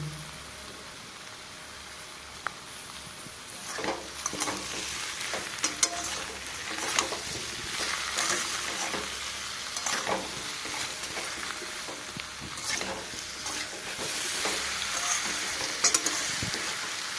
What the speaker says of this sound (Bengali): এই সময় গ্যাসের ফ্লেমটা লো টু মিডিয়ামে রেখে মশলাটাকে ভালো করে কষিয়ে নেব।